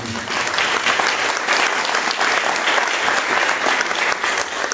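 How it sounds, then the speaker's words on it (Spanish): An audience applauds steadily at a Spanish-language book launch for the title "Vivo en Vida", a dense and even wash of many hands clapping at a fairly close distance throughout. "Para él un fuerte aplauso"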